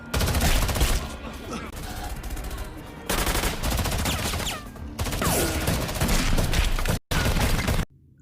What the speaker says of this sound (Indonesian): terjadilah adegan tembak-tembakan dan pertarungan